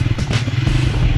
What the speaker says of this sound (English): ये रहा बाइक का exhaust note.